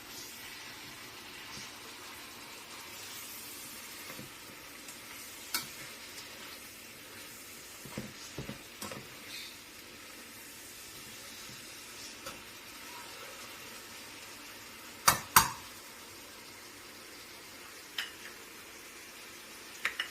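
Vegetables for pancit tossed into a hot pan give a low, steady sizzle, with scattered clinks and scraping knocks of a utensil against the pan, close and fairly quiet.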